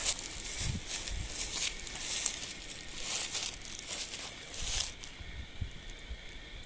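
A fruit tree limb is cut off outdoors close to a spur, with several crisp snipping, crunching and crackling bursts from pruning and handling the branch against steady background noise.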